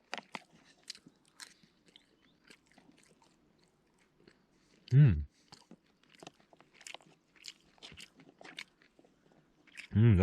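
Close, intermittent chewing and crunchy bites of Thai green chicken curry at a wild camp, with two short loud low bumps standing out among the quieter mouth sounds.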